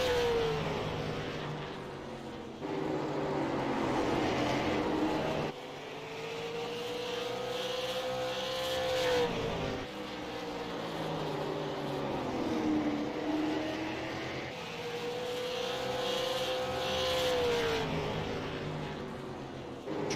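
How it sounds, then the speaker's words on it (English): Super late model race cars circle the track at New Smyrna during a warm-up session, their engines rising and falling as they pass, with a steady, loud roar and no talk. "Super late models bringing up the action."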